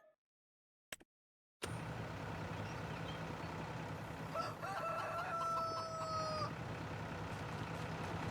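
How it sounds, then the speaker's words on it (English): Chickens crowing and clucking on a Montana farm in Farming Simulator, with a clear rooster crow rising over a steady background of engine hum and farmyard noise after a short silence. "Chicken."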